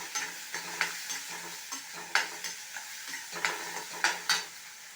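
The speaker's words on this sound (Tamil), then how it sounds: "இப்போது இஞ்சி பூண்டு பேஸ்ட்டு செவந்துட்டோம். நல்லா கோல்டன் நிறமாக ஆகணும்." Ginger garlic paste fries in a pan toward golden for curry leaf rice, with a soft steady sizzle broken by repeated scraping stirs at a near, moderate level; no one speaks.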